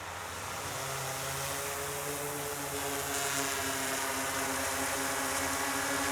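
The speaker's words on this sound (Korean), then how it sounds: "측량용 드론을 띄워서" Continuous high-pitched buzzing whine of a surveying drone's propellers, steady and fairly close, with no voices.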